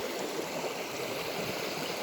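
Steady rushing of flowing water, a continuous close-by babble of a shallow river with no voices.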